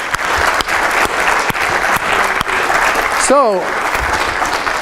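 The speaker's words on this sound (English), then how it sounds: "Let's give Emma a round of applause." An audience claps for a girl's robot after it completes a pull-up in a robotics demonstration: a continuous, fairly loud patter of hands with distinct sharp claps, a brief mechanical whine near the end, and a voice speaking over it.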